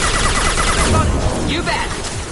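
Gunfire from a sci-fi firefight in Mass Effect 2, a loud continuous burst of rapid shots and crackling impacts with clipped combat chatter mixed in.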